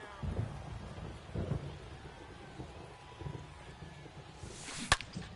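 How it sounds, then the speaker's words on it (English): Steady rainfall hisses beneath a baseball game in MLB The Show 22, a soft broadband wash with a few low rumbles and a sharp crack near the end, with faint crowd or field noise mixed in. "This rain is not letting up"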